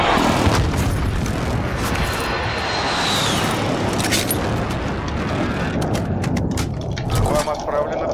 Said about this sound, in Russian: Вражеский точечный авиаудар.